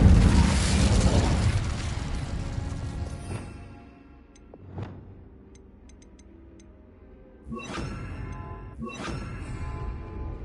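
Incendio fire spell cast in Hogwarts Legacy: a loud, roaring fiery burst opens and slowly fades, followed by a sharp blast and two more whooshing bursts later, with no talking.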